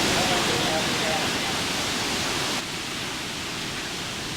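Heavy ocean surf at the Pipeline surf contest roars as a broad, steady wash of breaking waves, loud and continuous, dropping slightly in level partway through.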